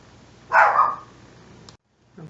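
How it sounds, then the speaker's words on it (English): A dog barks once at home, a single loud close bark followed by quieter background, with a brief faint sound near the end. "I lost my place because of my dogs. They were barking."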